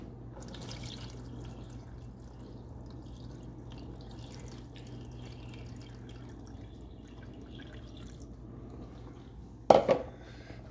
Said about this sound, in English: I'm gonna pour the water in.